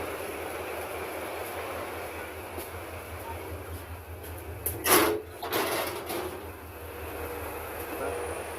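The Kishoreganj Express, a 13-coach train, rumbles along as heard from inside a non-AC coach: a steady low running drone with a brief burst of clattering about midway.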